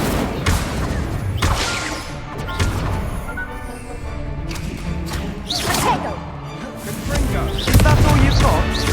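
An Incendio fire spell in Hogwarts Legacy goes off amid a busy duel, with repeated whooshing bursts, cracks and crashes in quick succession. Voices shout over the clash of spell effects.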